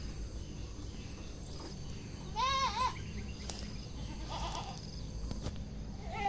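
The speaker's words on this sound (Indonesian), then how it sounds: "Sepertinya kambingnya juga heboh." Goats bleat in short wavering calls, one fairly close and others fainter, over steady outdoor insect and background noise.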